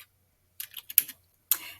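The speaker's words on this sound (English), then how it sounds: "I'm going to type my kid's name" Several quick keystrokes on a computer keyboard, typing out a short name in a graphic design program, come in small close clusters separated by brief silences.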